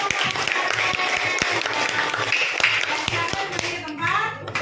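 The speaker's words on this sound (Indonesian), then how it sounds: "Oke, tepuk tangan dulu buat" Schoolchildren in a classroom clap after a group presentation on the planets, a patter of sharp, uneven handclaps close by with kids' voices chattering through it.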